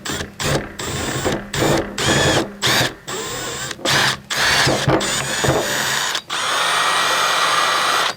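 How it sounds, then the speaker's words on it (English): A power drill widens a hole in a 55-gallon plastic drum, running in repeated short loud bursts with brief stops, then one longer steady run. "It actually drilled out pretty easily."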